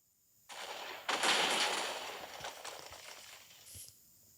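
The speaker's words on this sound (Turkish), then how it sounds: "TNT patladık." A muffled blast followed by a second, bigger boom and rumbling debris that fades out, with a smaller crackle near the end, from TNT exploding in a video game.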